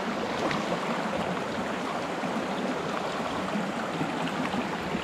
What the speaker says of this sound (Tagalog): Dito na po tayo sa ilog.